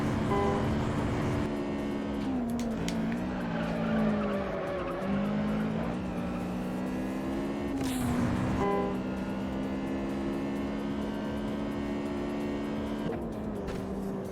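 Race car engine in the video game Juiced, held at high revs with shifting pitch, plus tire squeals and skids as the car corners, continuous and loud with no talking.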